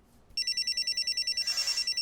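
A telephone rings in a home kitchen, starting after a brief quiet lead-in with a rapid, steady trilling electronic ring that sounds loud and close.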